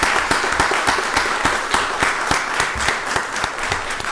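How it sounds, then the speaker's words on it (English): An audience at a county board of commissioners meeting applauds steadily, with many hands clapping in a dense, even stream and several sharp individual claps standing out. "So let's give all of public safety in our community a round of applause."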